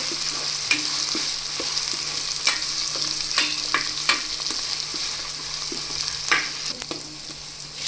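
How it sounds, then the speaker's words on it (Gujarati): Tomato and upma ingredients frying in a pan, a steady close sizzle broken by repeated scraping and clinking strokes of a stirring spoon, with no talking. "હવે આપણે તેમાં એક ટમેટું એડ કરી દઈશું અને બધી વસ્તુને એકદમ સરસ રીતે ચડવા દેશું"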